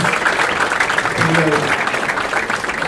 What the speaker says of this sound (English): please give them a nice round of applause for joining us this evening for the Friday night spin